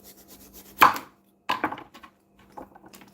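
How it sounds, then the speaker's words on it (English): Knife strokes on a cutting board while slicing watermelon for juicing, a sharp thud followed by a cluster of quicker knocks and a softer tap, fairly close with a steady low hum underneath. "Sorry for the banging on the cutting board."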